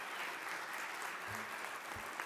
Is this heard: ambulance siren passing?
no